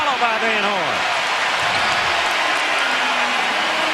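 A home arena crowd roars for the Philadelphia 76ers during a 2003 regular-season NBA game against the Washington Wizards, a loud, steady wash of cheering with a commentator's voice running over it.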